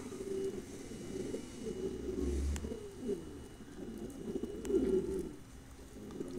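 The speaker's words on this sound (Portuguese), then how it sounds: "mostrando os pombos na alimentação da tarde aí" Pigeons cooing at an afternoon feeding in Minas Gerais, Brazil, a flock giving soft, low, repeated coos that overlap continuously, fairly close but quiet, with no talk.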